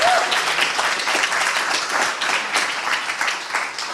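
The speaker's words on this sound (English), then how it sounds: "Let's have a round of applause for all of our panelists and speakers." An audience at a climate and freedom symposium applauds its panelists and speakers, a dense, steady wash of many hands clapping that holds at a fairly even level throughout.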